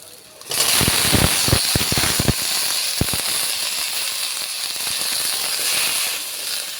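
Washed potatoes drop into a pan of sizzling fried spice paste, setting off a sudden loud hiss with sharp crackles that settles into a steady sizzle.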